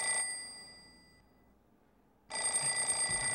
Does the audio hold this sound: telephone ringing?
yes